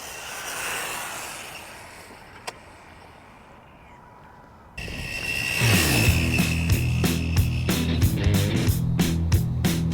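RC vehicle motor at full throttle on a 2S battery kicks in abruptly after quiet, becoming a loud, steady high-pitched whine with rhythmic pulsing, close up.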